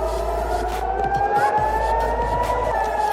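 An air raid siren wails steadily during a rocket attack on Raanana, Israel, its sustained rising and falling tone loud and continuous over a low background rumble.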